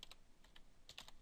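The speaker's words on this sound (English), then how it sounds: "you can type in any other address you like to do" Quiet clicks of a computer keyboard as a web address is typed inside a Windows XP virtual machine: a short, uneven run of about a dozen keystrokes, close and faint.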